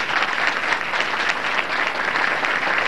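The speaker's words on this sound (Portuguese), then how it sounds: "uma salva de palmas" Steady, dense applause from a graduation ceremony audience at CEFET-PB's UNED Cajazeiras campus in 2005, sustained and loud at an even level throughout with no voices over it.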